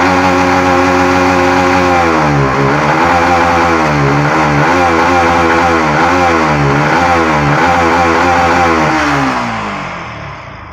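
A Yamaha MT15 motorcycle with a low-pickup fault revs hard and loud, its engine note repeatedly rising and dipping in a wavering pattern before fading near the end, with no voices.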